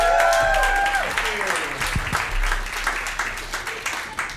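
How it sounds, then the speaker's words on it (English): Comedy club audience applauds as comedian Drew Behm takes the stage, a dense wash of clapping with some voices, steady and fairly loud before easing slightly. "please give the applause going for your next performer"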